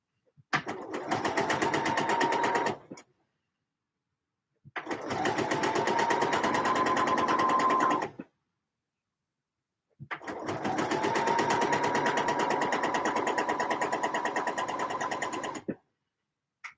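A sewing machine hemming a pair of trousers runs in three steady, loud stitching bursts of a few seconds each, the last the longest, with silent pauses between them.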